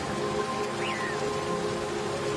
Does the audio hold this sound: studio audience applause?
no